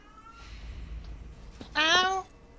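A pet cat, upset that she can see the bottom of her food bowl, lets out a single loud, drawn-out meow, with faint indistinct sounds before it.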